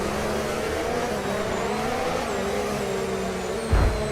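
A Formula 1 car in the racing game F1 25 struggles to accelerate after a failure, its engine holding a strained, wavering drone with faint gear whine, then a short low thump near the end.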